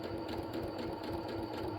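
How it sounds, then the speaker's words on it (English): A sewing machine running a continuous straight stitch across an orange peel appliqué quilt block, a steady fast mechanical whir close up with no voices. "I'm just going to do a straight stitch all the way across the"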